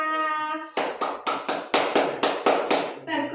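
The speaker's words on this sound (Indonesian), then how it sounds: "tepuk tangan untuk kalian semua" Schoolchildren in an elementary science class clap in unison, about ten crisp, evenly spaced claps. They follow a short voiced or musical tone at the start.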